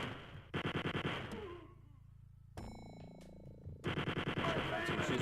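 Rapid bursts of machine-gun fire from the 1992 shooter game Wolfenstein 3D, Nocturnal Missions episode, loud and repeated in two long volleys separated by a quieter stretch of game effects.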